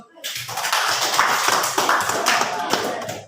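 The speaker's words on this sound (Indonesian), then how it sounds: "Tepuk tangan dulu." Applause from a classroom of students at an Islamic religious education lesson, a dense continuous clapping that starts sharply and holds steady for about three seconds, close and loud with some voices mixed in.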